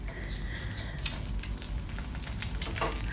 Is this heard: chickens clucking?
no